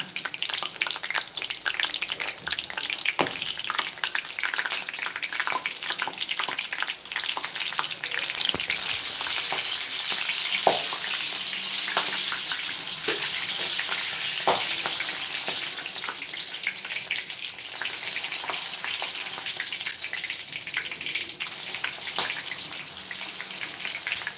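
Green chillies fry in hot oil, giving a loud, constant crackle and sizzle with scattered sharp pops. It runs close and unbroken, with no talking.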